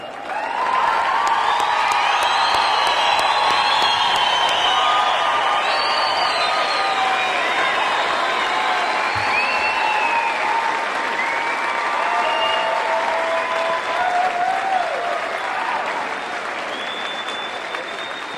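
A large audience at an undergraduate commencement ceremony gives the graduates a long, steady ovation of dense clapping mixed with cheers and whoops, sustained at full strength throughout.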